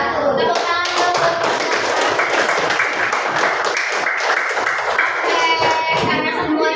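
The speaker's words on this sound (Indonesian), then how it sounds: "Tepuk tangan dulu." A classroom of children claps together in a dense, loud burst of applause that lasts several seconds, with a few voices mixed in.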